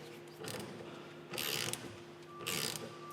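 A hand-operated motorcycle chain breaker and riveter tool is screwed through a chain link, giving three short bursts of ratcheting, grinding clicks separated by brief pauses against a quiet mechanical hum.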